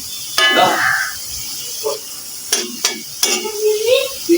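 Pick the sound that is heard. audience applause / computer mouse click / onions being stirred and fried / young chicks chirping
onions being stirred and fried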